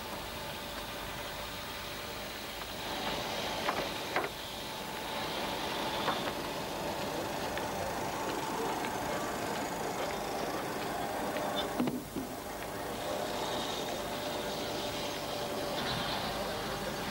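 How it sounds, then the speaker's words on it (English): A steam traction engine drives saw benches cutting timber into gate posts and fence poles, a steady mid-level mechanical rumble and whir with occasional knocks, heard with no speech. "the smaller bench cuts fence poles, all powered by steam"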